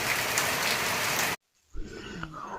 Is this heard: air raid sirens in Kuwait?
no